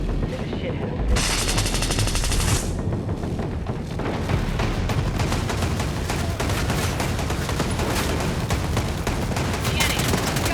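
Rapid bursts of automatic gunfire from an enemy turret in Ghost Recon Breakpoint rattle almost nonstop and loud, layered with a hissing blast early on and scattered heavier booms.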